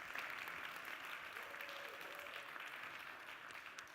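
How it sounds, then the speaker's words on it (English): A conference livestream audience gives a big round of applause, a steady even wash of clapping heard faintly and at a distance, with a faint voice briefly rising through it. "just give them one more big round of applause"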